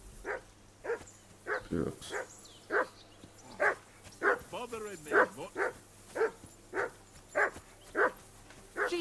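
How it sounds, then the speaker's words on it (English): In the video game Kingdom Come: Deliverance 2, a dog barks repeatedly at a regular pace, about twenty sharp barks at close to medium distance, while someone says a word briefly. "that barking's driving me nuts. Can you get your dog to shut its beak?"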